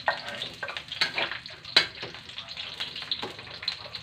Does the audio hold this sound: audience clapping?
no